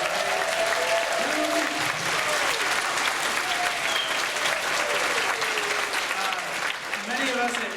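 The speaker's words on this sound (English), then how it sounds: "how about a round of applause for the workers here at the DoubleTree" Steady applause from a large banquet crowd fills the whole stretch, dense clapping at an even level with a little background chatter mixed in.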